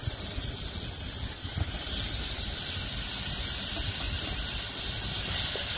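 Chopped tomatoes stirred into a masala frying over a wood-fired chulha, giving a steady, loud hiss and sizzle that carries on without a break, with no talking.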